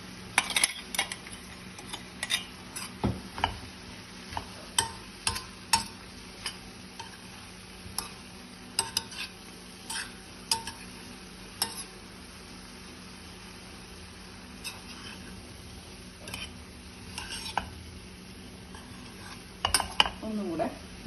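A spoon stirs an ivy gourd stir-fry mixed with ground fried prawns in a pan, making intermittent scraping and clinking taps over a faint steady sizzle, with no voices.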